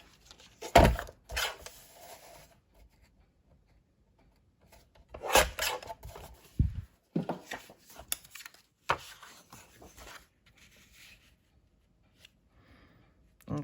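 Scissors or a blade trim a book page for a collage envelope, giving several short rasping, papery cuts in bursts separated by quiet gaps, close and fairly faint, with occasional talk.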